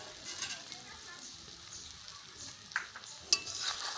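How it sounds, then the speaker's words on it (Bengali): Salt being stirred into a jujube pickle with jaggery, a steady wet scraping and mixing texture up close, with a couple of sharper clinks near the end. "লবণ ভালো করে মিশিয়ে নেব।"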